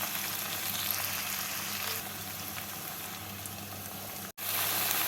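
Potatoes fry with onion and spring onion in a hot pan, giving a dense, steady sizzle that runs throughout, close and loud, with one brief cut to silence near the end.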